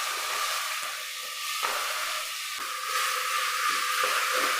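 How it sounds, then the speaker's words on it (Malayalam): Onions and tomatoes sauté in a hot pan with a steady, close sizzling hiss that swells and eases in a few waves, with no talking. "ഇതിലേക്ക് നമ്മൾ ഒരു 3 സവോള 2 തക്കാളി ഇത്രയും ചേർത്ത് നമുക്കൊന്ന് വഴറ്റിയെടുക്കാം."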